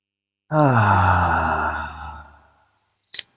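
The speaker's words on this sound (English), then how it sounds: "Breathing into the belly." A single deep, voiced exhale into the belly during a guided grounding exercise, a long sighing breath that swells then slowly fades, followed by a brief soft breath sound after a pause.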